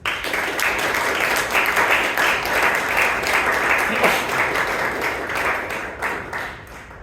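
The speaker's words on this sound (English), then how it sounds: "let's give Toastmaster Smitha a round of applause" At a Bangalore Toastmasters club meeting, the audience claps for the meeting's Toastmaster in a dense, steady round of applause that holds for several seconds and then starts to thin out.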